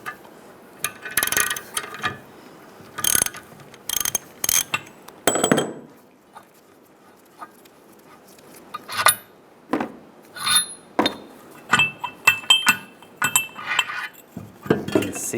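A control arm bushing on a 1998-2010 Volkswagen Beetle is pressed into place, giving irregular sharp metallic clinks and clicks from the press tool that are separated by quiet gaps.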